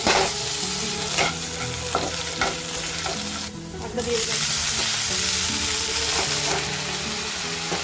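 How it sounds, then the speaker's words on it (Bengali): Water spinach sizzles and crackles as it fries with garlic, dried chilli and chopped onion in a home kitchen, with steady spatula stirring and scraping throughout and a brief dip in the frying noise partway through. "কলমি শাক রসুন শুকনো লঙ্কা পেঁয়াজ দিয়ে ভাজতে মশলাটা দারুণ খেতে লাগে"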